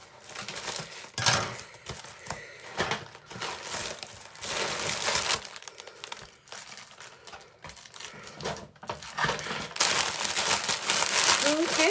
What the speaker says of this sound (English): I got another package that I'm going to be opening. It's bubble